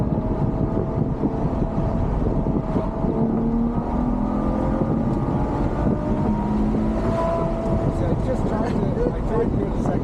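Inside a Ferrari GTC4Lusso at speed, the engine drops to second gear, its tone shifting and then climbing again beneath constant road and wind noise, while people talk in the cabin.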